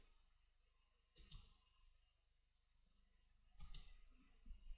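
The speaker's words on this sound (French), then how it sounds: "Je clique." A computer mouse gives two quick double clicks, close and crisp, separated by a few seconds of near silence in a quiet room.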